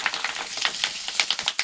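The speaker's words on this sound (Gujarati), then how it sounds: "તળવાનું કીધું છે ચાલુ. જો આગળ કેમ ફૂલે." Bhungla, the hollow tube snack, puffing in hot oil, giving a close, bright crackling fizz with quick irregular pops throughout, no voices.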